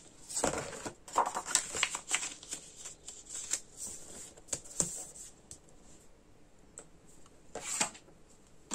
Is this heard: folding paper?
yes